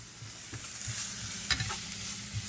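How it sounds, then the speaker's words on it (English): Onions sizzle and fry in a hot pan for a country-style breakfast, a steady close crackle with a few soft stirring scrapes and small bursts, no talking. "Turn it up so it can start to sweat the onions."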